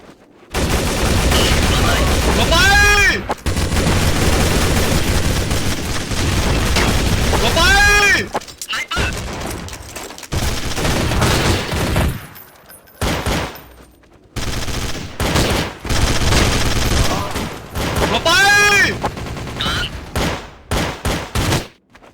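Bursts of rapid gunfire in Counter-Strike: Source crackle in several loud volleys, with excited talking and exclamations between and over the shots.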